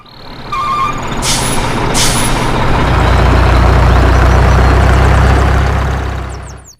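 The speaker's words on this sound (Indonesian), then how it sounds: "Wow, mobil truk oleng." Toy truck giving a loud hiss of air brakes with sharp bursts near the start, then a steady rumbling mechanical drone that swells and holds before cutting off, with faint beeping at the end.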